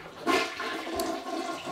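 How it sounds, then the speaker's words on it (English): A toilet flushes nearby with a loud whooshing rush of water that swirls and continues steadily, no talking over it. "if I flush this toilet, she's gonna run downstairs."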